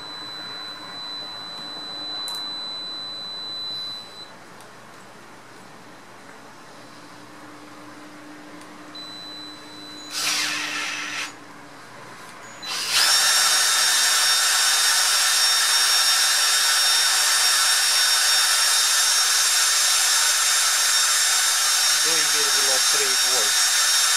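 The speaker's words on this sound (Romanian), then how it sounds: "Haideți să-l învârtim cu o bormașină." After quiet and a brief burst, a power drill spinning a refrigerator compressor starts and whines steadily and loudly at high pitch for the rest of the clip.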